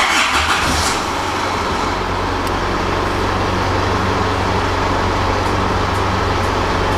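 An Isuzu D-Max engine cranks and catches at the start, then settles into a steady, loud idle hum that runs on unchanged, close by.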